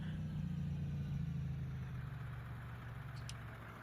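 A 2016 BlueBird T3FE school bus in the Rigs of Rods driving game, its diesel engine resembling a Cummins 6.7, running as a steady low rumble that eases slightly in level toward the end, with no talk.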